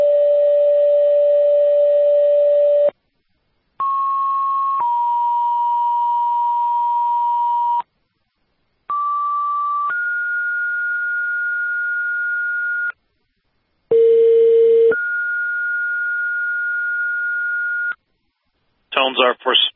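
Fire dispatch alert tones for a house fire in Chesterfield, New Hampshire: a loud series of long steady electronic tone pairs, each held a few seconds with short gaps, ending in a short warbling burst.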